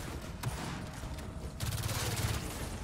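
Gunfire from the Gears of War 4 campaign: a single sharp shot, then another lone shot, followed by a rapid automatic burst, moderately loud with no talking.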